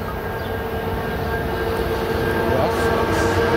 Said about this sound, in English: This is Metrolink 606 coming into Fullerton here.